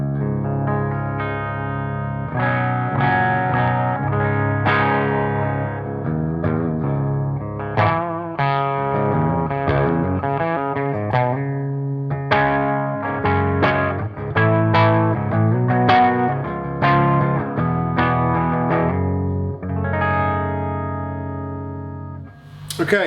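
A distorted electric guitar plays a busy run of notes through a Hayden Classic Lead 80 amplifier with boosted low end, a thick, heavy low end filling the sound.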